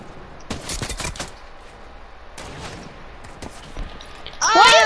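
Rapid bursts of gunfire in Fortnite, two clusters of close, sharp shots separated by quieter game ambience, ending in a louder tonal game effect.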